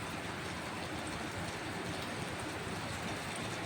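Heavy rain falls on a flooded street on Camias Road in Cubao, a constant, even hiss of downpour heard from a distance. It is fairly faint, steady throughout, and no voices are heard.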